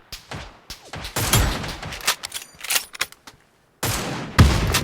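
Gunfire in the mobile battle royale game New State Mobile: loud, close bursts of rapid automatic shots and single cracks, broken by brief silent gaps, with sharp impacts and no talking.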